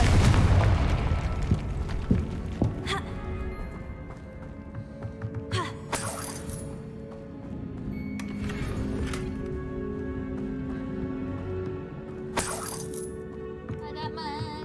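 A Confringo spell explodes in the Hogwarts Legacy video game with a loud initial blast, followed by a rumbling roar and several sharp crackling bursts that fade over the following seconds.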